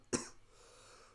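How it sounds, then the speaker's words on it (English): One sharp, close cough, followed by quiet room tone. "I don't know why I'm coughing."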